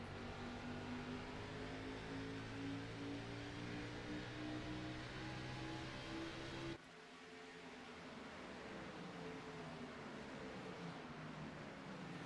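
A race car engine on a sim racing track revs steadily at low gearing with a constant droning hum, then drops sharply and builds again, a continuous mid-level whine with no voices.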